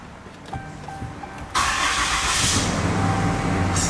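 A vehicle engine cranks and catches at about a second and a half, then settles into a steady, loud rumbling idle close by.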